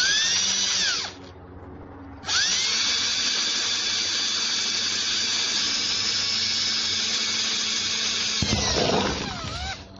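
A power drill with a standard bit whines loudly at high speed, pauses briefly, then bores steadily for several seconds before spinning down.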